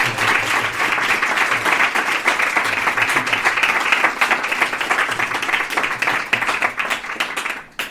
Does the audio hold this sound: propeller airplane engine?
no